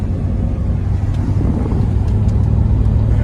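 A stage 3 Roush car cruising, with a steady low engine and road drone plus faint wind noise throughout, heard from inside the cabin.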